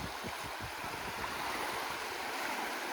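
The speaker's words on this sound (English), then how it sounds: "Beautiful day for a bit of beach fishing. Nice and calm, no wind. Tide's coming in" Calm sea waves wash onto a beach as the tide comes in on a windless day, a soft continuous rushing wash with faint low rumbles, steady and moderately distant, no voices.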